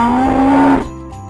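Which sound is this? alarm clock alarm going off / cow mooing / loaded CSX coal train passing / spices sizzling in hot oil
cow mooing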